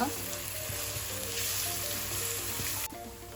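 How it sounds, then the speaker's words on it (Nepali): Steady, close sizzling of garlic and onion frying in hot oil until brown, crackling continuously with a faint hum underneath before dropping slightly quieter at the end. "यसरी लसुन प्याज यसरी भुटेर राम्रोसँगले ब्राउन कलरको हुनुपर्छ।"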